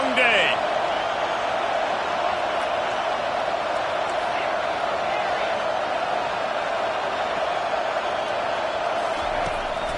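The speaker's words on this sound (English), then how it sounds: "This crowd, full throat, splitting the eardrums and letting them know it's going to be a long day" A stadium crowd roaring in the video game NCAA College Football 25, a loud, sustained wall of cheering that holds steady throughout with a constant drone underneath and brief whistling noises near the start.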